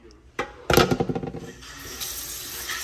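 Tap water splashes into a mixing bowl at a kitchen sink, with a few sharp knocks as the bowl is handled, then a steady running stream close by.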